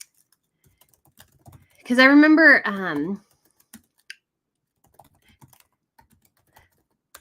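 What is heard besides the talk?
typing on a computer keyboard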